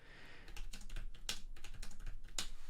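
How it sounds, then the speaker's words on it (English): Someone types quickly on a Logitech K780 wireless keyboard, a close run of light, uneven key clicks with a couple of louder taps. "I think I'll be very quick typing in this keyboard."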